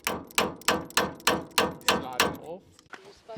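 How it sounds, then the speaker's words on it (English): A screwdriver used as a punch is hammered against a steel bumper serving as an anvil on a rough bush trail: about eight quick, sharp metallic blows in a steady rhythm, close and loud, with no talk. "eventually we have the idea to try and knock it out using a screwdriver as a punch"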